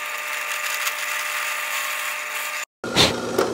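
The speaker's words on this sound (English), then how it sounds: "I'm just gonna have to hang it over the table to cut the countersinks" A power drill bores a countersink into a wooden automata base, running as a steady close whir that cuts off abruptly, then a short rougher burst of cutting follows.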